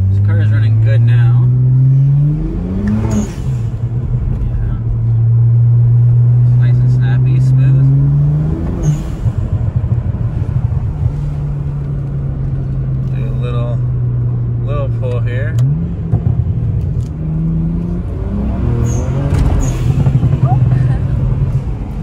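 A BMW E92 335i engine drones steadily while driving, rising in pitch through a few gear changes and then settling, loud and close from inside the cabin, with occasional speech over it.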